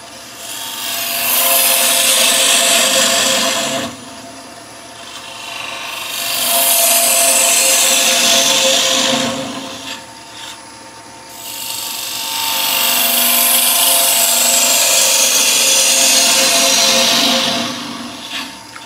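A wood lathe turning a workpiece while a tool opens a recess for thread chasing, with three long, loud bursts of rasping, scraping cuts separated by short quieter pauses where the spinning lathe hums.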